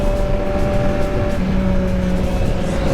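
A motorcycle rides along a road at night, a loud steady engine drone mixed with wind rumble, close and continuous with a slight change in pitch partway through.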